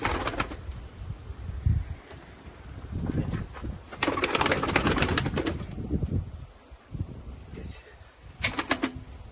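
Domestic pigeons in a coop nest during the egg and chick season, with close cooing and bursts of wing flapping and rustling. Someone talks over parts of the sound.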